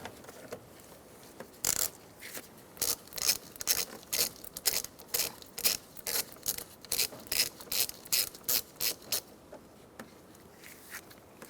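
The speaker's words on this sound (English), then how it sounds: "Using a 12mm socket, we're going to remove the cable from the terminal." A 12mm socket ratchet loosens the cable nut on the battery terminal of a 2014–2019 Kia Soul, giving a steady run of close, rhythmic ratcheting bursts, about fifteen of them, with no talking.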